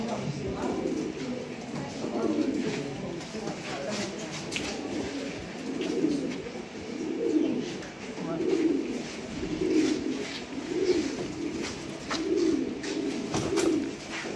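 Soft, repeated pigeon coos in a steady rhythm, close by, with light background noise throughout.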